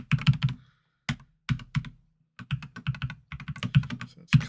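Keys clatter on a computer keyboard as shortcuts are entered in Excel, in quick clusters of sharp clicks separated by short pauses, close and alone.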